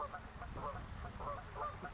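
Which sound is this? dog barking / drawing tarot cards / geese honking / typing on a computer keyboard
geese honking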